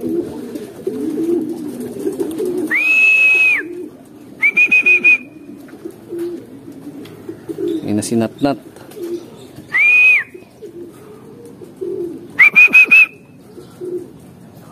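Racing pigeons coo softly inside a loft while a person talks nearby, with several sharp whistled calls standing out between.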